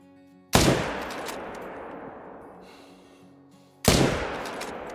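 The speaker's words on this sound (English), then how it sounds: "They're literally just standing there letting me shoot them." Two loud, close gunshots from a video game, each a sharp blast followed by a long echoing decay, spaced about three seconds apart, with no talk.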